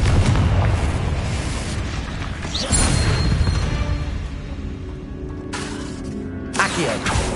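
Booming spell explosions from the Confringo curse in Hogwarts Legacy, a dense, loud blast that rolls on for several seconds, followed by further sharp bursts near the end.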